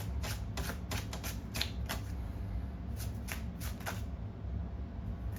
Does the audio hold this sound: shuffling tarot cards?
yes